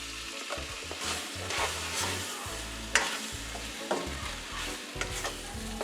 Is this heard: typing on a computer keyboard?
no